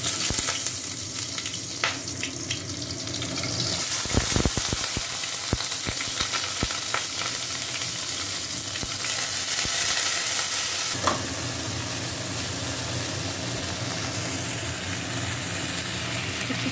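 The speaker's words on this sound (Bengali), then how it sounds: "ব্রোকলিগুলোকে ভাজিয়ে দিচ্ছি" Broccoli hitting hot oil in a pan, a steady sizzling hiss with scattered stirring clatters and taps, moderately loud and close, without voices.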